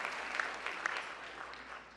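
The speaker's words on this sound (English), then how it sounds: "Give them a big round of applause." Applause fills the room at the White House Correspondents' Dinner: a thick, sustained wash of many hands clapping at moderate volume, with a couple of sharper claps standing out near the start.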